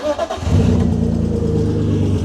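A BMW E36 track car's engine cranks and catches, then settles into a loud, close, steady idle after a service, with no one talking.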